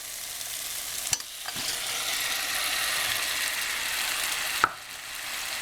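Fish pieces dropped into a frying Guyanese gilbaka curry mixture of spices, giving a steady broadband sizzle with two sharp clinks and faint stirring scrapes, no talking.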